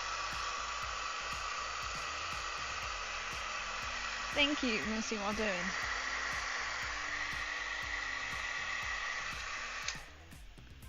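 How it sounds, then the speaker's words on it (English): A hair dryer hums steadily in the background at moderate distance, broken by a short squeaky noise in the middle, with a person speaking briefly over it before the whir stops near the end. "please don't be my hairdryer making that noise"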